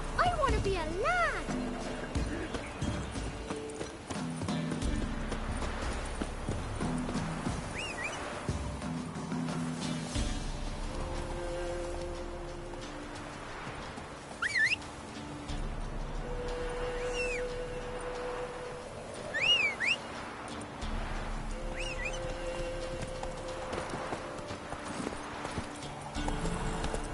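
Horse hooves clip-clopping at a trot in a PS4 video game, steady rhythmic clops with occasional whinnies, game voices and music playing over it.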